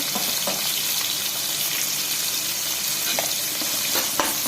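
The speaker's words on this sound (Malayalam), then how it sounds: "കുറച്ച് സവാളയും പച്ചമുളകും കൂടെ കുറച്ച് ഇട്ട് കൊടുക്കാം ഒന്ന് വഴറ്റി ഉപ്പും കൂടെ ഇട്ട്" Sliced onions and green chillies sautéing in a pan with fennel seeds for a Kerala-style tomato curry: steady close sizzling and frying with occasional stirring scrapes.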